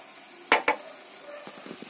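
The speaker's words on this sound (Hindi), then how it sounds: "मावा डाल के आपने इसको खूब अच्छे से मिक्स करना है।" Carrot halwa being stirred with khoya (mawa) in a pan, two sharp scraping knocks of the spoon followed by softer stirring scrapes over a faint sizzle.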